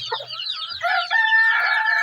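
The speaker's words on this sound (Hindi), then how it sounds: "ये मुर्गी जो ब्रीड है ये बहुत अच्छी ब्रीड है" Broody hen of a good laying breed kept at home, clucking in short bursts close by, mixed with dense high peeping from chicks.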